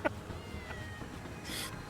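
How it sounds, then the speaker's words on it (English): A cat in the video game VirtuaVerse gives a short meow at the start, faint beneath quiet game ambience, with a later soft hiss of noise. "I hear them. Oh, there! It's the cat."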